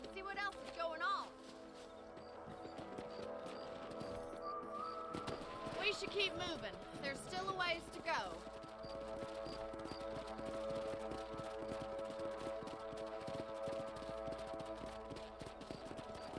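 Horses ridden in the Western video game Red Dead Redemption, hooves clip-clopping in a steady gait beneath someone talking, with soft ambient game music and outdoor background.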